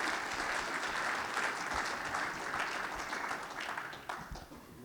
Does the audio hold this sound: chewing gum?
no